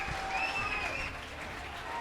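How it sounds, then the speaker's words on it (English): Crowd applause and cheering for the Thomian rugby team at a Trinity College versus S. Thomas' College schools rugby match, a brief, fairly faint wash of clapping from the stands. "The cheering is for the Thomian team"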